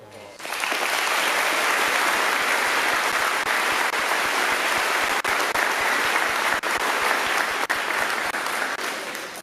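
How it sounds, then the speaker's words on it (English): A commencement audience at the Ogemaw Heights Class of 2022 graduation applauds the parents, a loud, dense, steady wash of clapping from a large crowd lasting the whole stretch without letup. "Let's give our parents a big round of applause."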